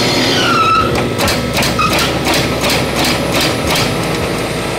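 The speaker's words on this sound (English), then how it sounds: "so there's your anti-skid mode in action and normal braking and the differences between them both" Aircraft brake system trainer braking in anti-skid mode, giving a steady heavy mechanical rumble with a rapid series of rhythmic pulsing clicks as the brakes cycle on and off, close and loud throughout.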